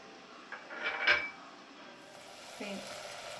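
A lid clinks down onto a pan of softening tomatoes for a crab curry, a brief, faint metallic knock with a small rattle, followed by a quiet kitchen hiss.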